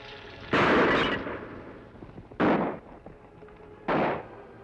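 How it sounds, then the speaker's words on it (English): Three loud pistol shots ring out, spaced about two seconds apart, each a sharp crack with a short echoing tail, over quiet background. "Pistol shots, Kemo Sabe."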